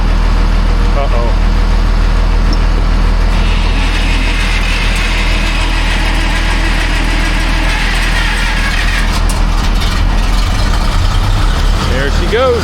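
A G950 grader engine struggles, then catches and runs, a loud, heavy diesel rumble with clattering mechanical ratcheting over a steady low drone, while a person talks over it.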